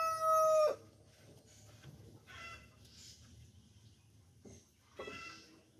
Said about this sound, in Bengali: এগুলা মূলত হচ্ছে শৌখিন মুরগি